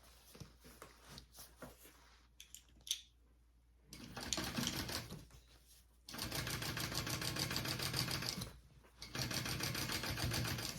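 Sewing machine top stitching along the lining of a tote bag, with short clicks and taps first, then two long steady bursts of rapid stitching separated by a brief pause.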